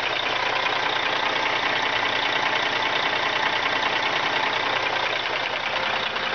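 A Cummins ISX dual overhead cam diesel engine idles hot, a loud, steady clattering drone that stays even throughout with no voices.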